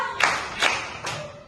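Children in a classroom clap hands together in three spaced, crisp claps, moderately quiet with a little room echo and no talking.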